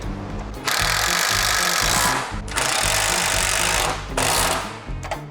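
Three long whirring bursts from a power tool tightening the front core support bolts on a dually truck, loud and close with short pauses between runs, no talking.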